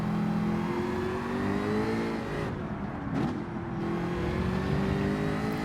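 A Gr.3 race car in the video game Gran Turismo 7 accelerates hard, its engine holding a loud, steady high-pitched drone that climbs through the gears with a brief dip mid-run.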